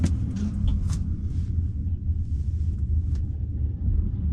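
A 5.7-liter Corvette rumbles at a cold, windy drag strip during a tire warm-up, a low steady engine drone heard at a distance with wind noise over it.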